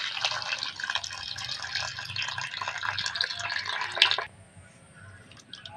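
Water splashes and pours steadily over cut elephant foot yam being washed, a close, busy running-water sound lasting about four seconds before stopping abruptly to near quiet.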